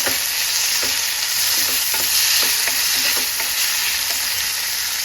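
Tomato frying in oil for a spicy chicken curry, a loud steady sizzle close up with regular scraping stir strokes about twice a second, no talking.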